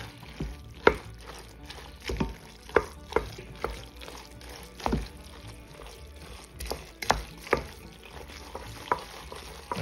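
A spoon works through a thick goulash mix of ground meat, spices, macaroni and ketchup, giving a run of evenly spaced scraping and clacking strokes against the pot, fairly close and moderately loud, with no talking.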